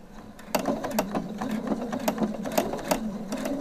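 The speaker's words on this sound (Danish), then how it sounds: "Og så skal jeg så sy hele vejen rundt." A sewing machine stitches a stand collar, running steadily at close range with a busy rhythmic needle patter and mechanical chatter that never pauses.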